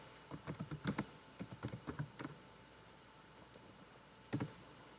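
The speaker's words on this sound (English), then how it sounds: "Now, if I type in the Lord," Fingers type on a computer keyboard, a quick run of close, light key clicks followed by a pause and then one more short burst of taps, with no talking.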